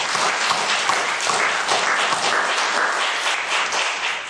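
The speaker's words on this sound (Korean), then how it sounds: "우리 경례의 박수 한번 보내주세요" A church congregation at a Sunday evening service applauds, a dense, loud, sustained wash of clapping running without pause and no speech over it.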